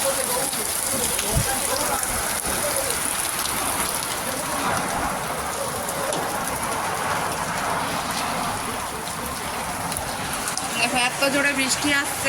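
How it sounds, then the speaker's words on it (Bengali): Heavy rain lashes down around a shop as water floods the ground, a continuous loud roar of drops with a brief low rumble, while a person talks over it. "চারিদিকে বৃষ্টি শুরু হয়ে গেছে"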